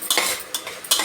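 A utensil scrapes and stirs potatoes and coriander leaves in a pan in three quick strokes, with a faint sizzling underneath, close and fairly loud.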